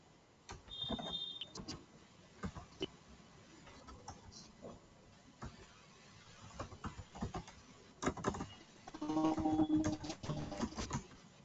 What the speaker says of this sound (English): So I'll type the text.